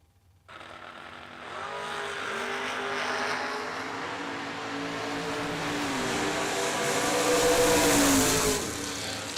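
A Camaro drag race car launches hard at a drag strip, its engine roaring loud and building through the gears as it pulls away, with broadband track noise and no speech.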